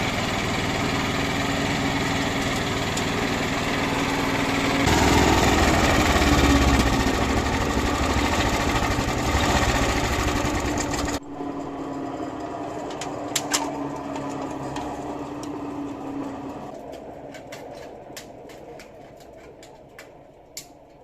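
A wood chipper's engine starts and idles steadily while warming up, a loud, close, continuous mechanical drone with a rattling vibration that drops in level partway through, and faint clicks sound over it.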